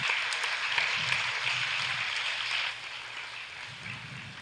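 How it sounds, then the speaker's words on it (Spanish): A church congregation applauds during a worship service, a dense, sustained wash of many hands clapping that eases slightly about halfway through and carries on at a lower level. "Dale un gran aplauso al Señor."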